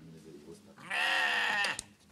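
A sheep bleats loudly and close for about a second, a wavering drawn-out cry rising from a quiet background with faint earlier sounds.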